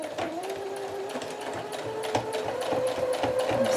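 A sewing machine stitching an old doily onto fabric, its rapid steady whirring hum close and continuous, with no one talking.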